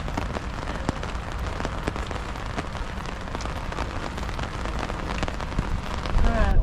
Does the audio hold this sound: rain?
yes